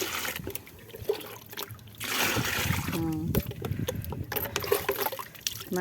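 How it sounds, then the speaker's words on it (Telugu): Water is poured and trickles over a surface, with a steady splashing dribble under ongoing talk. "కొంచెం నీళ్ళు పోస్తా"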